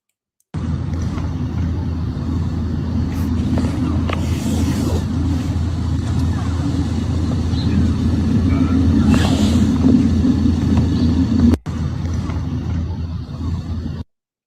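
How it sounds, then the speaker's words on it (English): Lorries drive along a ploughed, snowy road with a continuous loud low engine rumble and road noise that swells slightly, then drops for an instant before resuming. "Lorries are trying to drive through."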